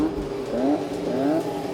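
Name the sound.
classic F1 racing cars driving past at Goodwood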